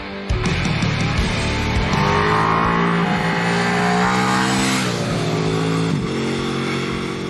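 A 2021 Ducati Multistrada V4S motorcycle starts close by and pulls away, its engine rising through several revving gear pulls with clear pitch sweeps and brief drops between shifts, loud and alone without talk.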